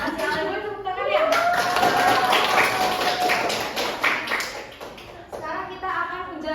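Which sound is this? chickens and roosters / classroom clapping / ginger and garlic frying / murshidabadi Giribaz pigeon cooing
classroom clapping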